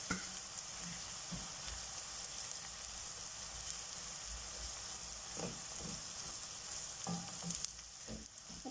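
Chopped garlic frying in oil for a sweet dates pickle, a steady close sizzle running throughout with occasional soft stirring scrapes, no talk.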